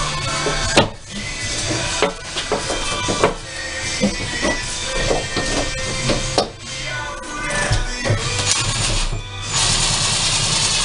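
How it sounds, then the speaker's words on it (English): A screw gun drives screws in repeated whirring bursts, loud and close against a busy, noisy construction background. "Let's get us some screws here and the screw gun."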